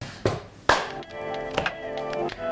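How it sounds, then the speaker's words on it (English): A person getting up out of a chair, with two sharp thumps early on followed by softer shuffling knocks and creaks, fairly close and with no talking. "Now, I'm going to get out of the chair here."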